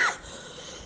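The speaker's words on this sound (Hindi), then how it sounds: "मुझे खांसी थोड़ा आ गई।" A single short cough from a person chanting a Hindu devotional prayer, sharp and close at the very start, then fading into quiet room tone.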